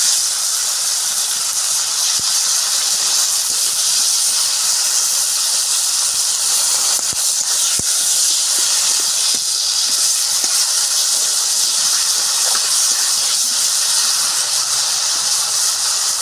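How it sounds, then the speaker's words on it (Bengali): Masala spice paste frying in a pan as the base for a river-fish tangra curry gives a loud, continuous sizzling hiss that holds steady throughout, with no pauses. "মশলাটাকে কারি করে নেওয়া হচ্ছে"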